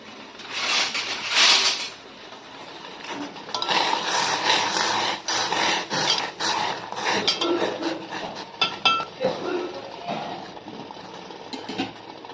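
Rose petals are stirred into hot water for home-made rose tea, with a spoon clinking and scraping against a pot or cup in irregular bursts, fairly close and without talk.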